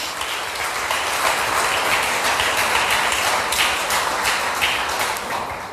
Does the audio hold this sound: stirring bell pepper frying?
no